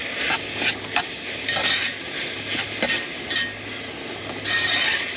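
Pork and beef mince sizzling steadily in a pan at a camp stove, a constant broadband hiss with occasional spatters, louder bursts and utensil scrapes or knocks.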